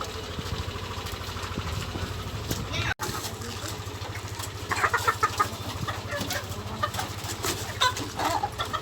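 Chickens cluck faintly in a small backyard coop at feeding time, a steady low hum running underneath and a person talking over the birds.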